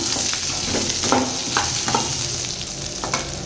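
Small shallots fry for mutton curry in a pan with a loud, close, steady sizzle, broken by repeated scraping stirs of a spoon, and nobody speaks.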